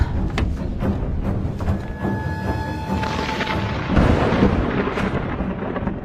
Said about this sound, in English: The storm is coming.